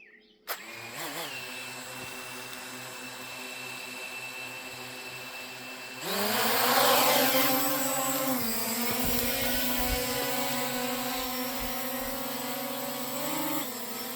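A RUKO F11PRO 2 camera drone lifting off: a click and quiet hum as it arms, then its propellers spin up into a loud, steady high-pitched buzz that holds with slight wavering.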